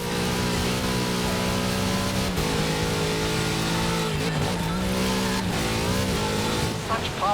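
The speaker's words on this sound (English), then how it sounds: "Such power in the big Chevrolet engine." Big Chevrolet engine in Forza Horizon 4 droning steadily as the car descends a downhill road, loud and continuous with a rising tonal pitch throughout.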